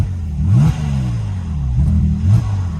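A Porsche 996 Turbo fitted with a Fabspeed Gen 1 exhaust and 100-cell catalytic converters idles with a deep low rumble, heard from inside the car, and is revved sharply twice.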